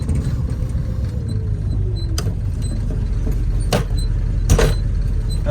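A 1974 Dodge Charger with a faulty, low-fluid transmission on a road test: a steady engine drone and road rumble inside the car, with creaks, clunks and several sharp knocks as the gears shift.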